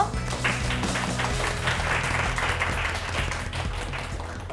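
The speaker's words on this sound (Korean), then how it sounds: "베테랑 철학교사 안광복 선생님을 큰 박수로 맞이해주세요." Studio audience applause welcoming a veteran philosophy teacher onto a televised lecture show, a dense, steady wash of many hands clapping that holds at an even level throughout.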